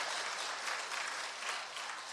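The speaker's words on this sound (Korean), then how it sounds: "박수 안 치라 그래도 알아서 치는 거 봐." A church congregation claps together in a dense, continuous burst of applause heard from a little distance, even and sustained, with no voices over it.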